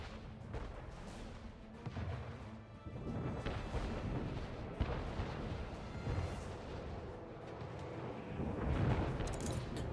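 Naval battle in Anno 1800 with flame cannons and cannon fire, a dense rumbling barrage of booms and crackling bursts that swells and recedes, with sharper blasts near the middle and the end.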